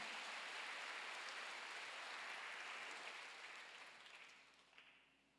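A church congregation applauding during a sermon, heard as a faint, distant wash of clapping that holds steady and then gradually dies away.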